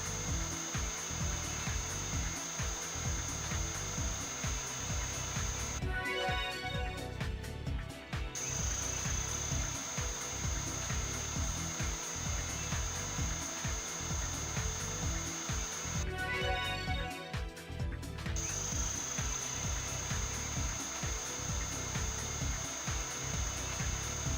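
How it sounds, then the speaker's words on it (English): Surgical drill boring holes in a bone plate during an operation in the game Trauma Team, two loud sustained bursts of whirring over a steady background drone. "I'm going to make holes with the drill"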